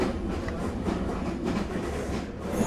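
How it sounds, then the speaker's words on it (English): A night train bound for Ankara rolls along the rails with a steady, dense rumble and faint clickety-clack of wheels, heard from inside the carriage with no talking. "We're going to Ankara right now. We're on the night train!"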